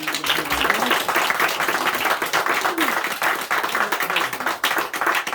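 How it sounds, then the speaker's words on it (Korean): A church congregation applauds in thanks during a Sunday morning service, a dense, steady wash of many hands clapping that fills the room throughout, with a few voices murmuring underneath. "우리 또 감사 박수 하겠습니다"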